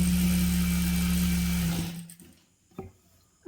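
Sewing machine stitching churidar pieces together, a steady close mechanical whir running for about two seconds before stopping, followed by a few faint handling knocks.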